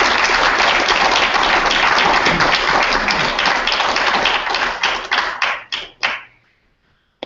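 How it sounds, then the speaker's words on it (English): Lecture-hall audience applause after a talk on NASA's dwarf-planet missions: loud, dense clapping that thins into a few scattered, separate claps before dying away. "Round of applause, please, for Jimmy"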